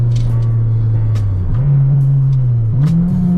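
An Integra GSR with an aftermarket exhaust and crossover pipe drones loudly from inside the car, the tone holding steady then stepping up twice as the revs climb through the gears.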